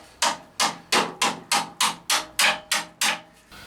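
Nine sharp, evenly spaced knocks on the old metal bodywork of a Triumph car, each tap ringing briefly and decaying before the next, close and fairly loud with no talking.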